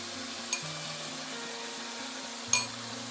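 Sylheti shutki shira curry with vegetables and lata (stolon) stirred in a frying pan, a steady soft sizzle throughout with two sharp utensil clinks against the pan, close and moderately quiet, no talking.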